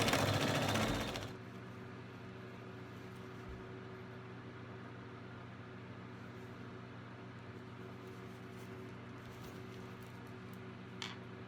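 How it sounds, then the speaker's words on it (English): A sewing machine stitches pieces of a Dresden plate quilt with a quarter-inch seam, running as a steady, fairly quiet mechanical hum after a brief louder burst at the start, with no talking. "I'm going to sew all of these with that 1/4 inch seam"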